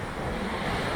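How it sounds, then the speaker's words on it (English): Ocean surf at sunset washes in as a dense, steady roar with some wind buffeting the microphone, loud and close throughout. "there is nothing better than listening to the sound of the waves"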